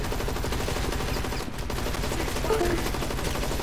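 Continuous rapid automatic gunfire from a zombie shooter video game on PC, a dense unbroken stream of shots with only a brief dip midway, loud and steady throughout.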